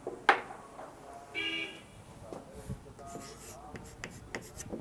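A question is written on a classroom board in a physics lecture, with a sharp tap and short scratchy strokes of writing. A faint tone and background noise sit alongside quiet talking.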